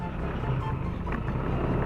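Motorcycle riding over a rough mountain road, a steady close engine roar with rumble, and a voice talking over it.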